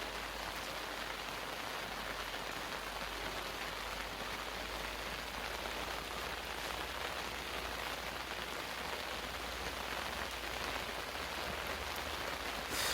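Steady rain falls on a vegetable garden in Jeongseon, Gangwon Province, a dense, even hiss of drops on leaves and soil that stays constant and fairly close throughout, with no voices.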